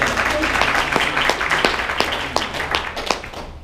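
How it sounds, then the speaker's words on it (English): Applause at a small meeting, a modest group clapping with distinct individual claps standing out over a steady patter, fairly close and loud. "Round of applause for Ken."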